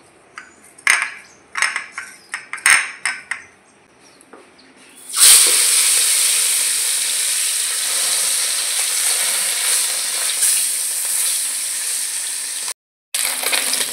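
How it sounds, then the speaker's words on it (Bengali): Fish rubbed with turmeric and salt drops into hot oil and breaks into a loud, steady sizzle that carries on to the end, after a few seconds of clinking utensils and handling sounds. "মাছটাকে আমি হলুদ লবণ মাখিয়ে ভেজে নেব।"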